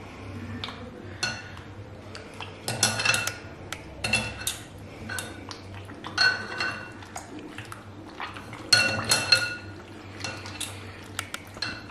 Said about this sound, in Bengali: জল ঢেলে দিয়ে সমানে এই ময়দাকে কচলাতে হবে।